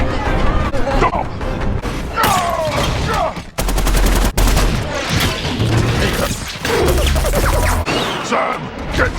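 Battle scene from the 2007 Transformers film, rapid gunfire and bursts of automatic weapons with booms and crashes, loud and close, mixed under shouted voices and dramatic sound effects.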